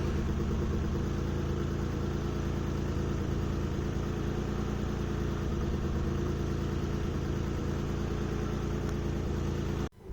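An Alpine V6 engine in poor condition runs steadily and loudly up close for the whole stretch, a dense continuous rumble that cuts off abruptly at the end.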